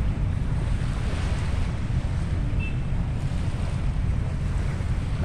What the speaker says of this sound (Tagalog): Dito na kami sa tabi ng dagat.